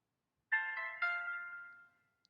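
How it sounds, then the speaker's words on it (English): Flip phone playing its power-off jingle, a short bright two-part chime that fades out over about a second and a half, heard alone and close, followed by a tiny click. "as I turned off my phone, which it makes a cute little noise"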